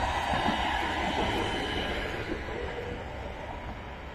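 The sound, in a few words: tram passing on street in Frankfurt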